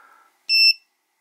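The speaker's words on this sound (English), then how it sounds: "you'll have a low sounding alarm for 30 seconds" ViFLY Finder 2 lost-model alarm buzzer giving one short, bright electronic beep, close and loud, preceded by a faint low tone.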